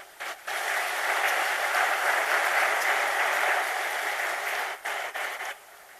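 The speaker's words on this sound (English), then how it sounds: "Have some claps" Steady applause from an audience fills several seconds, dense and even, then breaks off briefly and resumes before fading out.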